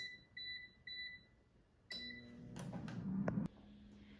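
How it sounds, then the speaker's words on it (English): An air fryer cooking frozen Bibigo dumplings sounds a short series of electronic beeps to signal the end of cooking, followed by brief handling clatter and a soft mechanical thump. "Now the air fryer is done cooking"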